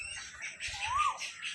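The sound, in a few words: Asian koel calling in mango garden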